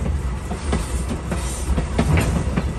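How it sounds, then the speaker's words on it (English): Passenger train ride heard from inside a carriage: a continuous loud rumble with repeated rhythmic clacks of wheels over rail joints throughout. "Do you like riding on the train, baby?"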